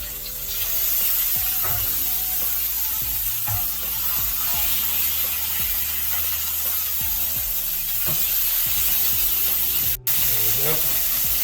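Beef burgers sizzling loudly and continuously on a grill before being flipped, a dense spitting hiss with scattered scrapes and clatter of utensils.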